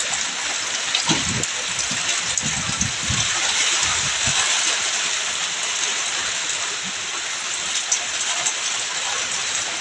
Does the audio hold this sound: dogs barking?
no